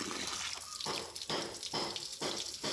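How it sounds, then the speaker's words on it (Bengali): Cut pieces of raw jackfruit are washed in water, with repeated splashing and sloshing surges and a constant watery rush in between, close and fairly loud. "এবার আমরা ধুয়ে নিচ্ছি।"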